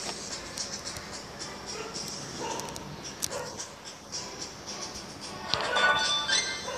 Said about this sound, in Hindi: पर कुत्ते भी इतने भौंक रहे हैं।